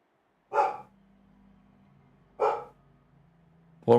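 Household dogs bark three separate times at steady, evenly spaced intervals, each bark loud and close, with a quiet low hum in between and no voices.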